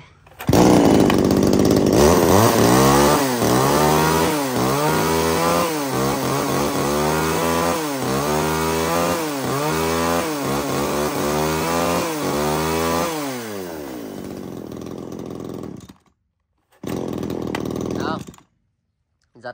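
A Makita 33 cc mini chainsaw is pull-started and runs loudly for about fifteen seconds, its engine rising and falling in repeated revving cycles, then cuts off, with a short burst of sound afterward.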